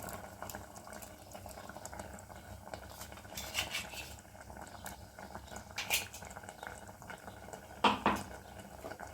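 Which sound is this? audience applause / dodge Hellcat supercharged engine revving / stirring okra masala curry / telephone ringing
stirring okra masala curry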